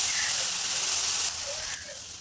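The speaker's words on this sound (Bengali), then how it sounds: "পেঁয়াজ বাটা অল্প খানিক দিয়ে দিলাম, দিয়ে নাড়িয়ে নিচ্ছি" Onion paste frying in a hot pan, a steady loud hiss and sizzle as it is stirred, with a slight shift in tone partway through.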